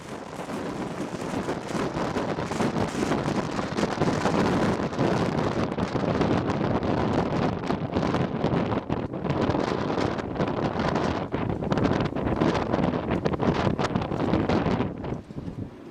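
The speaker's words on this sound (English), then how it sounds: "It's very windy today" Strong wind roars steadily against a moored sailboat in rough weather, a dense, continuous buffeting with gusty rustle and microphone wind noise throughout, close and loud, with no voices.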